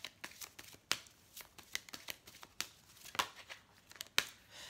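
Oracle cards are shuffled by hand to draw a card, giving a quick run of close, soft riffling and flicking snaps at an uneven rhythm. The sound is quiet, with no talking.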